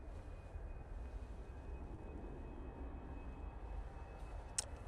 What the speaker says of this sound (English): to Amsterdam we go with this A319